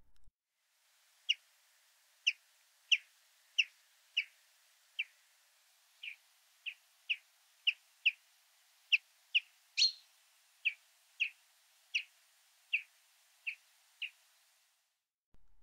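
A chaffinch gives its flight call, a series of about twenty short, sharp, evenly spaced chirps repeated every half second or so, clear and close against a silent background.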